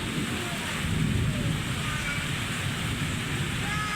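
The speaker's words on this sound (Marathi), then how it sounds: "विजा तर इतक्या कडकडू राहिल्या" Dense, constant rain roar during a thunderstorm with lightning, a low rumbling thunder undertone, steady throughout without pauses.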